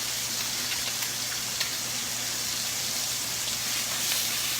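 Pork chops browning in a keto kitchen pan, giving a steady soft sizzle with scattered light pops and spits, faint and continuous throughout with no voices.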